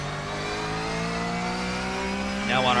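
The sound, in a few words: Porsche 911 GT3 Cup engine revving, iRacing video game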